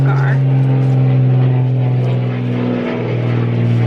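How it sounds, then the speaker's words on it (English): A propeller airplane passes overhead during a backyard table saw lesson, a loud sustained low drone with steady tonal hum, spoken voices mixed in. "Plane's going overhead."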